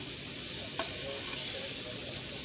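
Butter sizzling in a frying pan heated on medium heat, ahead of cooking bacon and banana pancakes; a steady close hiss runs throughout with a brief scrape partway through.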